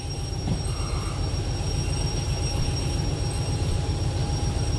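Train rolling and braking in the Derail Valley railway simulator at night, a steady dense rumble with faint high squealing tones held throughout, loud and constant with no talking.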